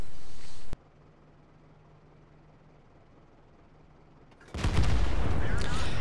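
Cannon fire in a tank video game on the Karelia map: one loud blast that cuts off abruptly, a quiet stretch, then another heavy roaring blast that carries on to the end.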